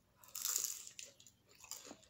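A crisp crunchy bite into food during a chicken wing mukbang, a sharp crackle followed by a few softer chewing crunches, close and clear with no talking.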